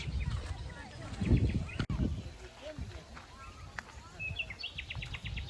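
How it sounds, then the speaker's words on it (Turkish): Small birds chirp in short repeated bursts, fairly faint, with footsteps and occasional voices in between, at a campsite picnic area. "Kuş sesli."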